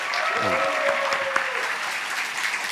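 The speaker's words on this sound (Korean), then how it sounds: "박수 한번 좀 보내주십시오" Congregation at a Sunday church service applauding, a brief spell of crowd clapping with a few voices mixed in, steady and moderately loud.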